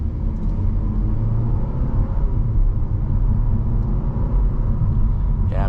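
A 2023 Audi A4 45 Prestige accelerates uphill at half throttle, heard from inside as a steady, loud low engine and road rumble that holds even throughout.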